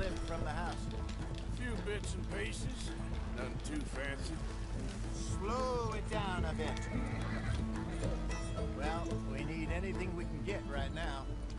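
Horses pull a stolen wagon in Red Dead Redemption 2, with repeated loud neighs and whinnies over a steady clip-clop of hooves and wagon rumble. Voices talk over them throughout.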